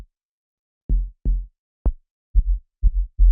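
An unprocessed sub bass sample recorded from a Moog DFAM drum synthesizer plays as six deep, short booming hits in an uneven rhythm. The hits are separated by dead silence and there is no other sound.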